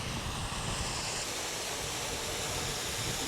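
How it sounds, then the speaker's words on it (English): A waterfall pours into a plunge pool on a countryside walk in Rossendale, a loud, steady broadband rush of falling water with no breaks and no voices. "Now this is our plunge pool, and this is the waterfall we wanted to see."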